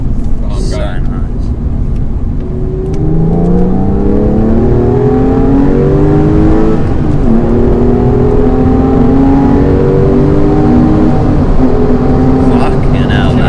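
Porsche 996 Carrera 4S engine pulling hard under acceleration, a loud rising whine and growl sweeping upward through the gears with people talking over it.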